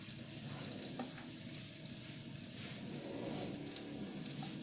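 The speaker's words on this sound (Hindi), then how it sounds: "घी यहाँ पे गर्म हो गया। अब क्या करेंगे, ये जो ऑनियन है, प्याज को सारा डाल देंगे" Chopped onions fry in hot ghee with a dense, continuous sizzle and crackle that holds steady and close, with no voices over it.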